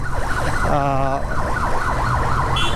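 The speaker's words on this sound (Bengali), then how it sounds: "একটা অ্যাম্বুলেন্স আমার সামনে, অ্যাম্বুলেন্সটা এত বেশি হর্ন বাজাইতেছে" An ambulance stuck in road traffic wails its siren loudly and close by, the rising and falling tone repeating over engine rumble.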